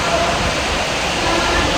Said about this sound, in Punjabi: ਹੁਣ ਸੁਣੋ ਜੀ ਬਾਰਿਸ਼ ਬਹੁਤ ਪਈ ਜਾਂਦੀ ਆ